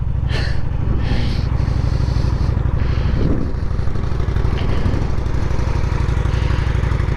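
A 2023 Honda Shadow Phantom motorcycle idles steadily with a low, throaty rumble from its engine and exhaust pipes, a continuous close engine drone with a few light clatters over it.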